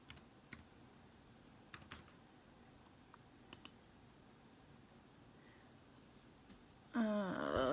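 Several sparse, faint clicks of typing on a computer keyboard in a quiet room, spaced irregularly, followed near the end by a sudden louder burst of noise.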